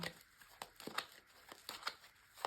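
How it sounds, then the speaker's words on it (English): Tarot cards are shuffled close by, quiet crisp riffles and flicks repeating in an uneven rhythm of short papery bursts. "So first of all, a good shuffle."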